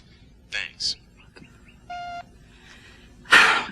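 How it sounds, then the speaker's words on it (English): An answering machine gives a single short, clean electronic beep, held for about a third of a second. Before it come brief breathy sounds, and a sharp breath or hiss follows moments later. "Please wait for the beep and leave a short message."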